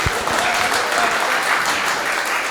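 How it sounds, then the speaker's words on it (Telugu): Audience applause at a singers' society gathering, a continuous burst of many hands clapping, moderately loud and steady throughout. "నచ్చితే క్లాప్స్ కొట్టండి ఒకసారి."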